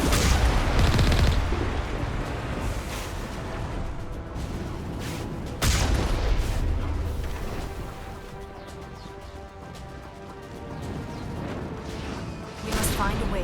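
Artillery fire in the video game Mass Effect Legendary Edition comes as loud, booming blasts and rumbling explosions. Heavy hits land near the start, around six seconds and at the end, with a voice talking amid the din.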